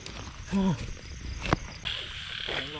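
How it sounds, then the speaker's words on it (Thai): Frogs croaking at night in a field, a few distinct croaks standing out over a murmur of distant calls and night ambience, with a sharp knock partway through. "วันนี้พามาหากบครับผม เสียงร้องแตกแซวเลยครับ"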